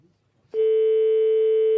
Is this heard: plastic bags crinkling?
no